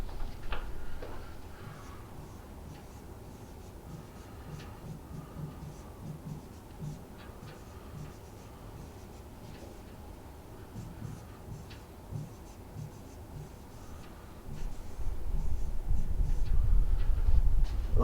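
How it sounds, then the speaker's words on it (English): Sentences being written out by hand, with soft, faint pen or marker scratches and small ticking strokes in an irregular rhythm against quiet room noise, growing louder rustling near the end. "Let me write it out for you."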